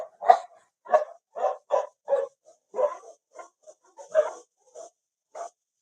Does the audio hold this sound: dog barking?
yes